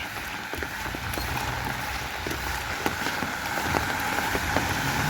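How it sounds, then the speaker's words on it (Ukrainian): Steady rain falling outdoors during a long-awaited rainfall, a soft continuous hiss with scattered droplet ticks, fairly quiet and even throughout with no talk. "Дощик уже понапуває всю землю."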